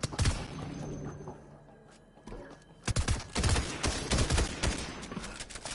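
Shotgun fire in a first-person video game, a series of loud, sharp blasts that come in quick clusters after a quieter lull, close and punchy, with no voices over them.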